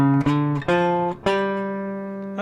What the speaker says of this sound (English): Contrast that sound to the minor blues scale.